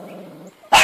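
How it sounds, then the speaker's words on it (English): A dog barks in the yard: a low growly sound, then a brief pause, then one loud sharp bark close by at the end. "If Daisy would stop barking long enough, I could hear Lulu whining."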